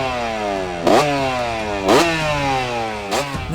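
A 2001 Pro Circuit Kawasaki KX125 two-stroke dirt bike engine revs close by with a sharp, buzzy tone, rising in pitch three times with quick blips between steady idle stretches.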